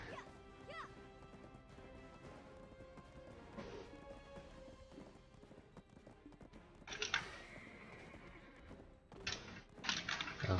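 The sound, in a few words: horse neighing and hooves in video game Black Desert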